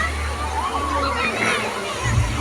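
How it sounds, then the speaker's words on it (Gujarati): Water pours and sloshes down from above in a museum's children's water play area, a continuous splashing wash under loud talk and the babble of a crowd nearby. "ઉપરથી પાણી પડે છે."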